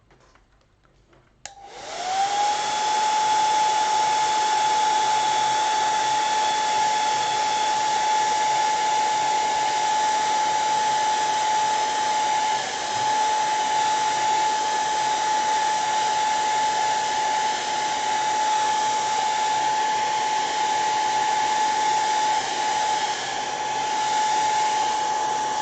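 A hair dryer switches on and runs steadily at close range for over twenty seconds, drying a small watercolor beach sketch done in line and wash, with a constant whine and airy roar.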